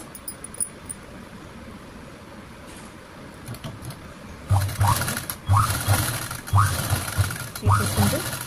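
A sewing machine stitches the back neck of a blouse in short bursts, several separate whirring runs of rapid needle clatter separated by pauses, close and fairly loud after a quiet start.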